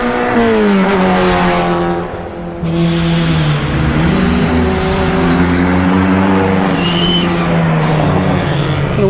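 An ex Red Bull Formula 4 race car screams around a track in Pattaya, Thailand, its engine loud and close with rising and falling harmonic pitch through gear changes, plus a brief dip before roaring on at full throttle.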